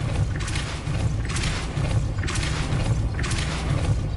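A Depulso force spell cast repeatedly in Hogwarts Legacy gives four evenly spaced whooshing, booming bursts about a second apart over a steady low rumble of game ambience.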